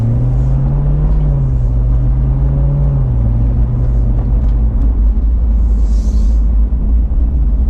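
A Chevrolet Corvette Z06 fitted with magnetic ride suspension rumbles while being driven, giving a loud, steady low engine drone with a slight pitch shift as it eases, heard from inside with no talking.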